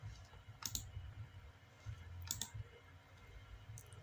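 A few faint, sharp computer mouse clicks, spaced about every second and a half, over a quiet low hum.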